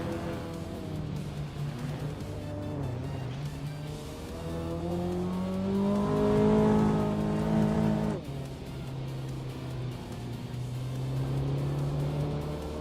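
Race cars roar around a video game track, one including a 1959 Maserati 3500 GT, their engines droning steadily and swelling as they rev and pass by up close, with faint tire noise and no voices.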